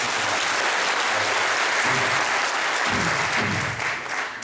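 Steady, dense applause from a large crowd at a taxi drivers' assembly fills the whole stretch, loud and continuous, fading slightly near the end.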